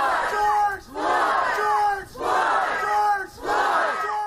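A crowd cheers and acclaims George Floyd's grieving brother as he walks toward a painted mural, loud swelling roars and shouts coming in three or four waves with brief dips between them.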